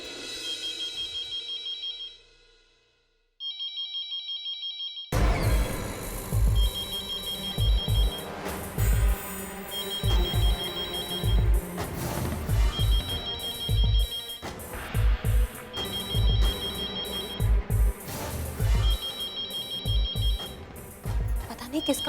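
A phone rings in a home during a Hindi TV drama, repeated bursts of ringing in the first seconds giving way to loud dramatic background music with recurring ring-like tones over it.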